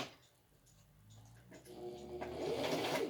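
A sewing machine stitches a homemade HEPA filter face mask, starting quietly and building into a steady, close mechanical whir that grows louder toward the end.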